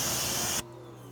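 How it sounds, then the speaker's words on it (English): A car wheel and tire being sprayed down with a pressure stream: loud, dense hiss that cuts off sharply partway through, leaving a quieter steady hum behind. "even just spraying down the wheel and tire, it's pretty much clean"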